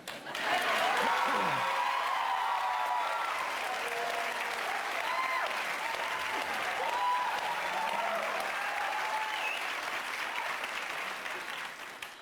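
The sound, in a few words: studio audience applause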